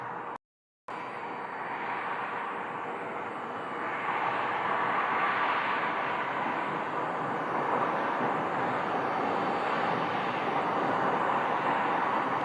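An airliner taxiing toward a gate at Phoenix Sky Harbor Airport gives a steady, loud jet engine roar with a broad rushing hiss. The roar swells slightly partway through and continues without a break, with no voices over it.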